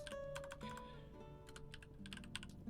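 Quick keystrokes on a computer keyboard entering a Linux command, several light clicks in short bursts, close and quiet over a faint electrical hum.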